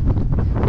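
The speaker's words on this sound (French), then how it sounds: "il y a du vent, je sais pas si vous allez m'entendre" Outdoor wind gusting straight into the microphone, a loud, low, fluttering rumble that fills the whole brief moment with no voice.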